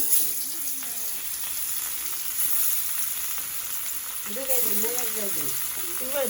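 Goat meat sizzles as it goes into hot oil in a home kitchen, giving a loud, steady frying hiss throughout while voices talk over it.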